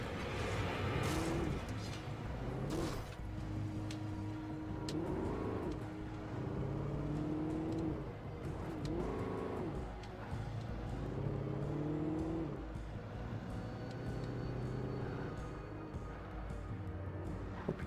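A truck drives in the video game Alan Wake, its engine droning and repeatedly revving up and down through gear changes over a steady rumble for the whole stretch, with no voices.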